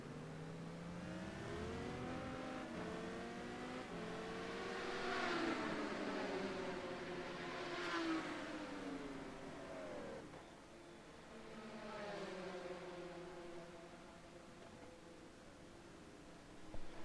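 GT1 race cars accelerate through the Bahrain circuit in a racing video game, several engines revving and shifting in overlapping waves at moderate distance, rising and fading as cars pass, with no voices.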